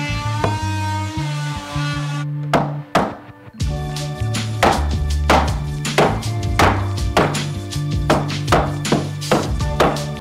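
Repeated hammer blows strike in an uneven rhythm, sharp and close, over a sustained droning tone in the background, during a home theater installation.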